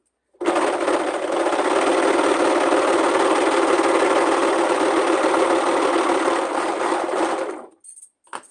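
An overlocker sewing machine stitches across the short ends of fabric for homemade underwear, running loud and steady for about seven seconds with a dense mechanical whir, then stopping abruptly.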